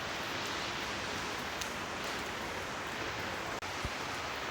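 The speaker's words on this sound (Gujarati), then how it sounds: "આજે વરસાદ ચાલુ થઈ ગયો છે." Rain falls in Dubai as a steady, even hiss with no clear drops standing out. It is faint and constant, with one brief tap near the end.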